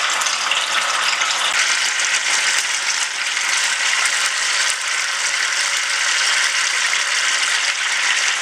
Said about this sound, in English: we're just going to pop it into our hot oil